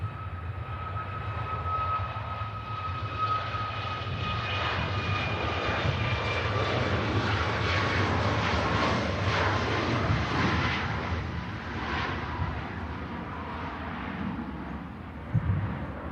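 A passenger jet airliner at Manchester Airport roars steadily throughout, a loud continuous engine rumble with a whining tone that swells toward the middle and eases off as it passes.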